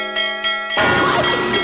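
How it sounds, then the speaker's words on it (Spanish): A school bell in a Spanish-language cartoon gives two short metallic strikes, then breaks into a loud continuous ringing that keeps going to the end. "¡Ay, maldición! ¡Sonó la campana!"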